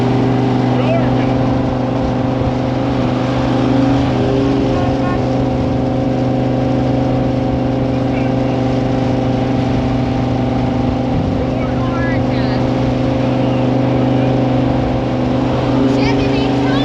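A Ford pickup drives past towing a Chevy, its engine giving a loud, steady droning rumble that holds for the whole stretch, close by and running continuously, with a voice talking over the top of the engine noise.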